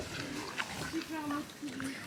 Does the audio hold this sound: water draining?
no